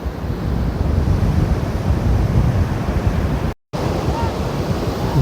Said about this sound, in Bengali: সামনেই বিশাল সমুদ্র আর তার শো শো গর্জন।